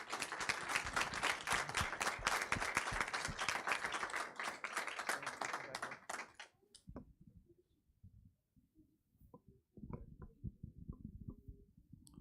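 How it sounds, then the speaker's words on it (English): An audience applauds at a school district board meeting, a dense burst of clapping that fades after about six seconds, followed by scattered claps and a brief second round. "if we can get one more round of applause"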